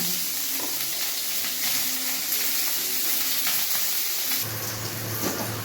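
Diced onions frying in hot oil for a chilli gravy, a steady loud sizzle with crackling throughout and a brief stirring shift near the end, no voices.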